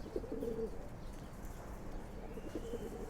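Silver pigeons giving two low rolling coos a couple of seconds apart, close by and fairly quiet over a soft background hum.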